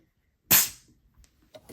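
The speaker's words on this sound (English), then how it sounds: "That is the satisfying sound of the pressure release valve." The pressure release valve on a Stanley Camp Crock 96-ounce food jar holding hot wonton soup opens with one sharp, close hiss-pop that fades quickly, followed by a few faint clicks.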